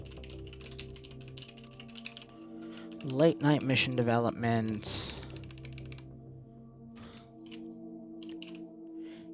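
Computer keyboard typing in short bursts of rapid clicks, fairly faint and close, while someone talks over part of it with a low steady hum in the background.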